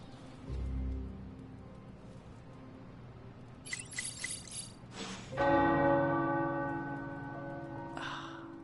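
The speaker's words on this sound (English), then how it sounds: "The tower bells are ringing." Tower bells in the video game Marvel Midnight Suns ring out with bright, sustained tones, a cluster of strikes followed by a louder resonant peal that lingers and hums as it fades.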